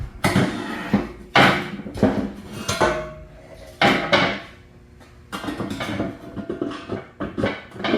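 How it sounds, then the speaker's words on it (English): Metal impeller being fitted back into the tunnel of a Snapper 4/22 snowblower, a series of close clanks and knocks with short pauses between them. "Now I'll go ahead and put the impeller back into the tunnel."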